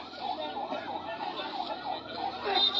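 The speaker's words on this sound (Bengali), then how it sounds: "এই যে অ্যাম্বুলেন্সটা যাইতে দেন, সবাই একটু যাইতে দেন, অ্যাম্বুলেন্সটাকে যাইতে দেন" An ambulance siren wails as it moves through a crowd gathered at a human-chain protest by the Dudhkumar river: a steady wavering tone, moderately distant, under crowd noise and voices.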